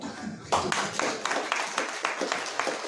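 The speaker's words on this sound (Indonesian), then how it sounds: "Tepuk tangan begitu." A church congregation at a Saturday worship service breaks into clapping, a dense burst of many hands starting suddenly and continuing with rhythmic peaks, fairly close and loud.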